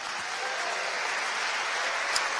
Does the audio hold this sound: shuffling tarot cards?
no